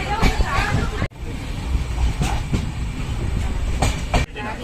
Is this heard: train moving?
yes